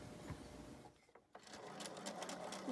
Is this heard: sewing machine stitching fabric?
yes